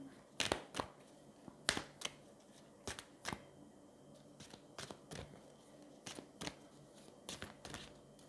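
Cards from a Queen of the Moon oracle deck being shuffled and drawn, a run of sharp, dry flicks and snaps in irregular clusters, close and fairly quiet with no talking.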